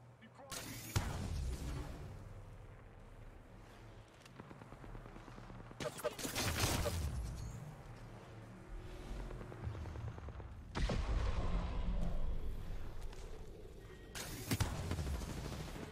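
Bursts of automatic gunfire in Apex Legends crackle in several dense volleys with booming hits between, a rapid mid-range firefight that swells and fades, with a voice talking over it.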